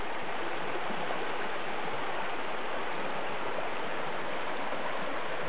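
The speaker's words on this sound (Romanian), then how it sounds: "Pârâul este destul de repede pentru debitul de apă pe care îl posedă." A fast-flowing forest stream at Gemenea rushes steadily and loudly, with dense, unbroken water noise and no voices.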